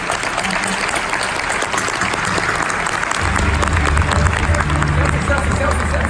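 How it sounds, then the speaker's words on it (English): An audience at a Las Vegas meeting gives a panel a round of applause, dense clapping throughout joined by low crowd murmur and a rising rumble of movement partway through. "I want to ask you a round of applause to our panel"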